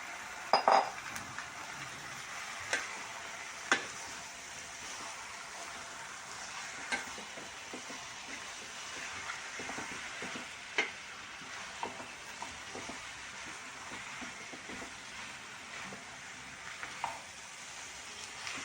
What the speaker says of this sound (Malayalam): ചിക്കൻ ചേർത്തിട്ട് നല്ലതായിട്ട് ഇളക്കുക